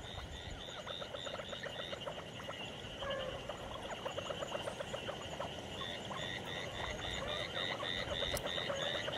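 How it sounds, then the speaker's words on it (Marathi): Many frogs croak at night near rural water in Maharashtra, a dense, rhythmic chorus of repeated pulsed calls layered over one another, steady and fairly faint throughout with no talking. "रात्रीचे 11 वाजलेत आणि बेडकांचा आवाज कसा येतोय"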